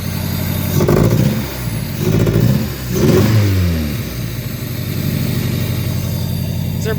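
A Honda CRX engine idling after a cold start following four years of sitting, loud and close, with a steady rough mid-pitched rumble and a few brief swells in revs.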